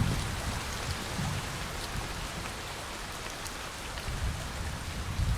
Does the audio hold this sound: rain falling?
yes